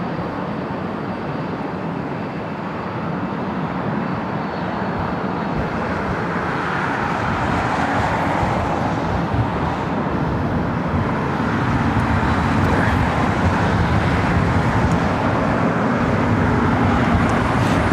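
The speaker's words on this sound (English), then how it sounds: "This is Asiana Airlines 201 taking off on 25 left to Seoul on this A380" An Asiana Airlines Airbus A380 departs runway 25L at LAX bound for Seoul, heard as a steady, broad engine rumble that builds slightly toward the end, mixed with ambient airport noise and no voices.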